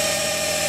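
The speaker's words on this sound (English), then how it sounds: "I'm actually drilling around the screws" A power drill fitted with a plug-cutting bit bores around screws in a broken wooden cap rail, giving a steady, continuous motor whine with a sustained tone, close and fairly loud for the whole moment.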